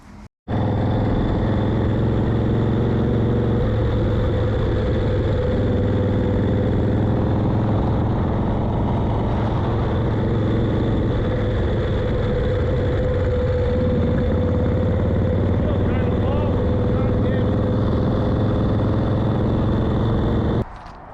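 Harley-Davidson Wide Glide motorcycle engine running continuously after a front-end tune-up, a loud, close, steady idle rumble with slight surges, starting abruptly and cutting off at the end.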